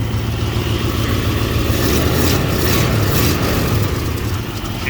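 A 1971 Ford F100 pickup V8 engine idling nearby after sitting eleven years, a steady loud low rumble with a slight uneven lope, a small exhaust leak, and no voices over it.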